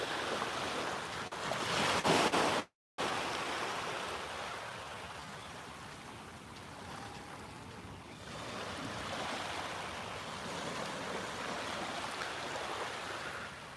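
Sea waves washing onto Portobello Beach in Edinburgh on a sunny day, a soft continuous surf wash with wind buffeting the microphone, steady and moderately faint, with a brief dropout near the start.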